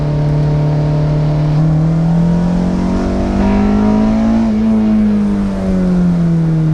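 A Honda S2000 sports car accelerates hard through blind turns, its engine droning loud and close with a steady rising and falling pitch, no talking over it.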